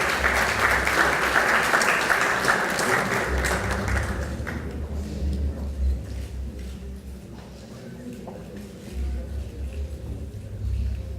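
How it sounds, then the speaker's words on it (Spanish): At a formal anniversary ceremony of an engineers' college, a hall audience applauds loudly for about four seconds; the clapping then fades to scattered claps and quieter room noise with a low hum underneath. "Un aplauso para el ingeniero Edevali de la Peña Seguil."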